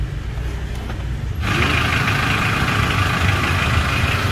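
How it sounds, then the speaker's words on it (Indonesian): A 1993 Isuzu Panther car engine idles close by with a steady low rumble. About a third of the way in, it abruptly grows louder and brighter, then holds an even, smooth idle with no talk. "Seperti ini suara mesinnya."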